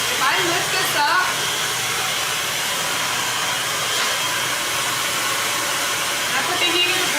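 A hair dryer blows steadily on styled hair during a professional haircut, a continuous close whooshing hiss with slight shifts in airflow throughout.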